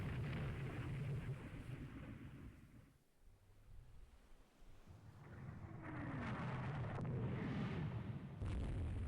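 Heavy naval gunfire from battlecruisers in the 1957 Rule the Waves 3 naval war game, booming blasts and rumbling explosions that roll loud across the whole stretch, dipping briefly before swelling again.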